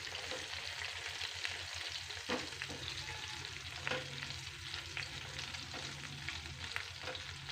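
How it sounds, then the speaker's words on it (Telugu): Green chillies sizzling and frying in hot oil while being stirred, a quiet, continuous crackle with occasional sharper pops and scraping stirs, heard alone without talk. "ఇవి బాగా ఆయిల్లో ఫ్రై కావాలి."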